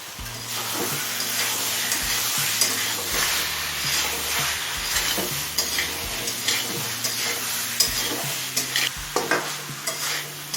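Fried potatoes and green jackfruit sizzle in a pan with chicken and spices, stirred with repeated scraping and clattering over a constant loud frying hiss.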